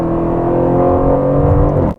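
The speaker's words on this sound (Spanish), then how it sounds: "El AMG GTS también tiene un gran sonido, pero este coche se siente más profundo y un poco más agresivo." An Aston Martin sports car engine revs loud and close in a deep, aggressive, rich-harmonic roar, steady for about two seconds, then cuts off abruptly.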